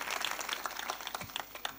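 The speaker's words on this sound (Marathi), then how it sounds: "टाळ्या जरा जोरात वाजवत जा" Scattered audience clapping at a kirtan gathering, fairly faint and uneven, with individual claps rising from a soft ongoing patter over a couple of seconds and no voices.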